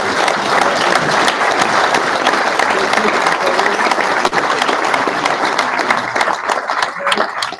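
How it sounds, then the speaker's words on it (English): A Boy Scouts gathering breaks into a full, loud round of applause for three award winners, dense crowd clapping sustained throughout with light crowd noise. "Let's give a round of applause to these 3 winners."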